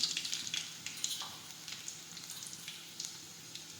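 Crushed garlic, mustard seeds and cumin sizzle steadily in hot oil, a close, bright crackling hiss with scattered pops that starts loud and settles into a continuous fry.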